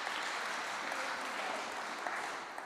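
An audience at a speaking event applauds the sound desk operator with soft, continuous clapping, a fairly quiet and even wash of hands with no speech over it.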